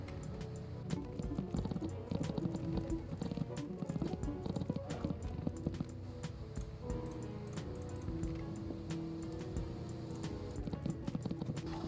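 Steady clip-clop of horse hooves in a video game, trotting at a quick, even pace, moderately close, with no talking over it.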